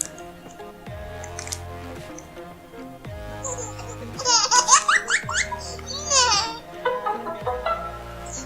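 A funny baby-laughter ringtone plays from a phone app, with repeated bright infant giggles and squeals in bursts over a looping musical backing, fairly loud and close, with no talking.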